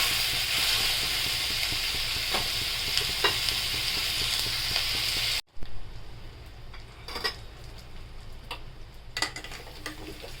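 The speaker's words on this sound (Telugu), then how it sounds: "ఇలాగా కలుపుకోవాలి. బాగా వేగే వరకు కలపాలన్నమాట." Paneer mixture fries in a pan, a loud steady sizzle with scattered stirring scrapes that suddenly drops to a quieter crackle, followed by intermittent spatula clicks and taps.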